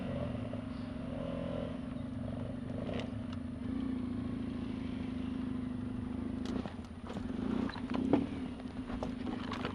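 An off-road vehicle engine drones steadily on a Belgian trail, then revs and strains harder with rattles and clatter as it pushes through a rough section, heard close and fairly low in level.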